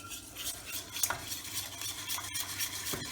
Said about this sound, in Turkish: Çırpmış olduğum karışımımı yavaşça ve karıştırarak sütümün içine ilave ediyorum ve pişirme yöntemine başlıyoruz.